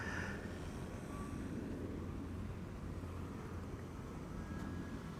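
Jet engines of departing aircraft at Amsterdam Schiphol roar as a distant, steady broadband rumble with faint whining tones, low and continuous.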